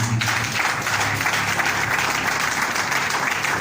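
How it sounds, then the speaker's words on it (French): A church congregation applauding together in praise, with dense, steady clapping that fills the room at close range and stays loud throughout, along with a faint murmur from the crowd. "Est-ce qu'on peut acclamer le Seigneur?"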